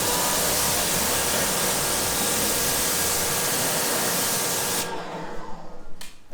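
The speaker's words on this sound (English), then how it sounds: "We'll give it a rinse here." Water spray rinses the caked brake dust off the back of a car wheel, a loud steady hiss lasting several seconds before cutting off abruptly, leaving a quieter tail.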